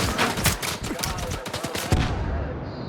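Rapid bursts of video-game gunfire crackle and snap for about two seconds at close range, loud and uneven, then cut off abruptly into near silence.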